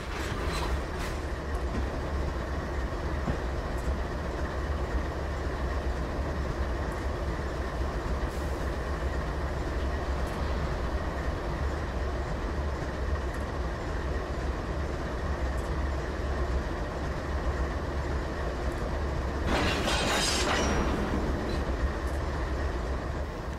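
A heavy freight train in Train Simulator 2014 rumbles steadily as it brakes to a stop, with continuous low rolling noise and a brief hiss or squeal near the end; no talk.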